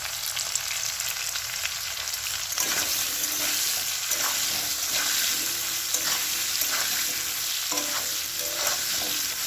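Potatoes lightly frying with salt and turmeric in a home kitchen pan, a continuous close sizzle with frequent stirring scrapes and occasional clinks of the spoon against the pan, no one speaking.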